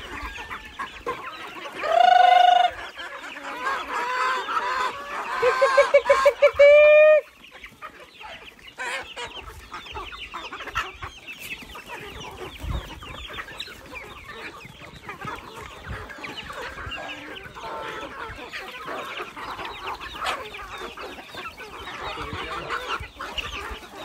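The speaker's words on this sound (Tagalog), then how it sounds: "Nakadami tayo ng mga manok dito guys kasi ano lang dito yung tahimik tapos malamig" Native chickens cluck and call nearby in a quiet, cool farmyard, with a couple of louder bursts early on and softer scattered clucking continuing after.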